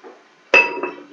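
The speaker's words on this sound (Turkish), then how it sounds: "Bu şekilde tenceremizin kapağını kapatıp" Metal lid closing on a cooking pot during meatball soup preparation, a sharp close clink with a brief ringing tail and a softer second tap just after.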